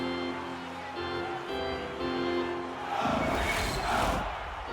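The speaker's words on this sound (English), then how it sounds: "you can feel the energy in this crowd" A hockey arena crowd in a playoff game between the Ducks and Kings keeps up a sustained roar under a broadcast commentator's voice, swelling louder toward the end.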